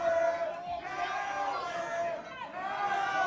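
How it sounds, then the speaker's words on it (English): A crowd at an independent pro wrestling show shouts and jeers in unison, a sustained loud chant of many voices filling the hall without a break. "And this crowd has some choice words here for Braydon Goss."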